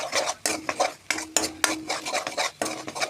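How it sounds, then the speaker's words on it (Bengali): Fish with chili and cumin powder being stirred in a pan, a quick series of scraping spatula strokes and metal clinks against the pan over a faint sizzle, close and rhythmic. "দিয়ে আস্তে আস্তে নাড়তে রাখবো।"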